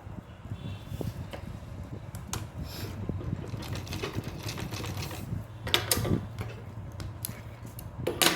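A sewing machine stitches a frill onto a small dress, with a steady low mechanical hum and rapid needle ticking that runs in bursts and pauses, close by, with no talking.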